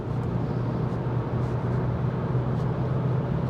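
Inside a 2015 Audi A6 2.0 TDI diesel with 190 hp and an S tronic gearbox under hard acceleration, a steady, loud low engine drone blends with continuous road and wind noise, with no voices.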